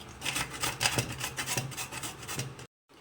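Peeled beetroot grated by hand on a metal grater, a quick series of rasping, scraping strokes in a steady rhythm, close and fairly quiet, ending in a brief silence.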